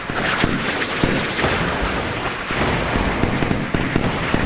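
Naval guns in the warship game Sea Power firing at an incoming Exocet missile: irregular booming shots and crackling blasts over a dense, roaring background, loud and continuous, with no speech.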